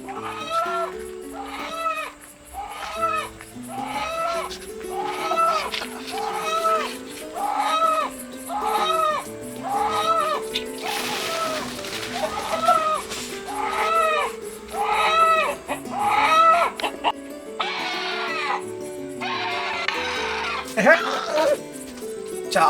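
A large native country rooster, about a year and a half old and around two kilograms, clucks in a steady series of repeated calls among other chickens, with people talking nearby.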